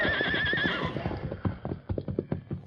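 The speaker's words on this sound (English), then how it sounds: "Here's your bronc, Bill." A cowboy's horse whinnies loudly at the start, then its hooves clip-clop in an uneven rhythm close by, without any talk.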